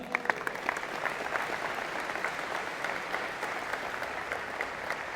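An audience at a College of Engineering and Computer Science convocation claps steadily, a dense even patter of many hands heard from a distance, fairly soft and unbroken throughout.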